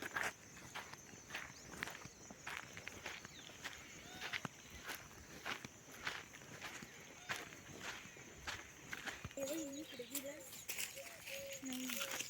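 Steady footsteps crunch over rough, lumpy clods of freshly ploughed farm soil at a walking pace, with sparrows chirping and voices talking faintly in the background.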